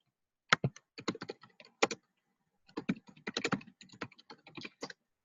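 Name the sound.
typing on a computer keyboard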